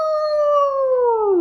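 A single long wolf howl, loud and close, holding a steady tone before sliding downward at the end.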